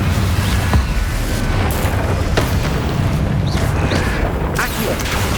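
Confringo fire spell bursts in Hogwarts Legacy, a loud, dense roar of booming impacts and crackling blasts filling the moment, with a few sharper hits standing out.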